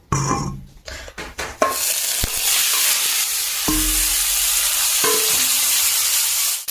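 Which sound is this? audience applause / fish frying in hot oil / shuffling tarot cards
fish frying in hot oil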